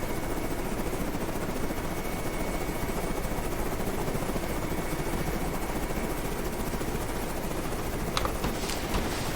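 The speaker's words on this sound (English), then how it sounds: "we're supporting the Petrel with a razor bill that's carrying flares" A Razorbill aircraft flies in Carrier Command 2 while carrying flares, a steady, loud, rotor-like drone that holds throughout, with a few sharp cracks near the end.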